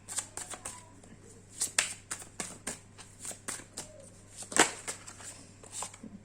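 Tarot cards are shuffled in a quick series of crisp riffles and taps, close and quiet, with short pauses between bursts and one sharper snap near the end.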